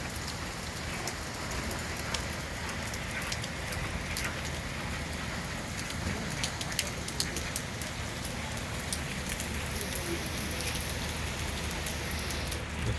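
Heavy monsoon rain pours down in Chennai, a dense, even hiss of drops pattering on surfaces nearby, continuous and unbroken with no voices.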